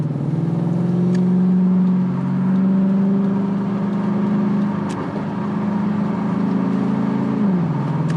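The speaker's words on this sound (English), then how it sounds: "Downshift, fast downshift." A car's engine and transmission on a road drive, with a sustained drone whose pitch holds and then drops sharply near the end as a fast downshift happens; steady and fairly loud, no speech.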